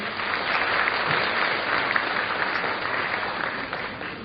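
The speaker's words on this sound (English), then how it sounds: "Let us have a huge round of applause for the performers." Sustained audience applause fills a school annual concert and prize distribution ceremony hall, a dense, steady wash of many hands clapping without pause for the performers, fairly loud and even throughout.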